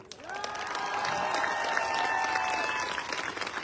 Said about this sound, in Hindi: ताली बजाओ ढंग से।